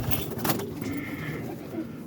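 Domestic pet pigeons in their loft give a short, soft cooing call, close by and fairly quiet, against faint background noise.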